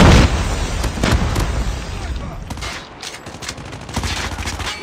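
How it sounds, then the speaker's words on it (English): A heavy grenade blast opens a stretch of dense automatic gunfire and scattered shots in a Call of Duty: Mobile team deathmatch, with loud repeated bursts and booms that fade back into steady firing. "Watch out! Grenade!"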